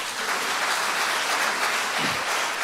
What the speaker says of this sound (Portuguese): Você pode dar mais um aplauso para o Senhor?